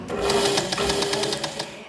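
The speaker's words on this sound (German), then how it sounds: "hat seine alte Nähmaschine von zu Hause mitgebracht" An old domestic sewing machine runs in a rapid, steady mechanical rattle of needle strokes, close and continuous for the whole stretch with no talk over it.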